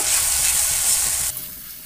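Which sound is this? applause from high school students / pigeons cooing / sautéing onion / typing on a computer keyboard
sautéing onion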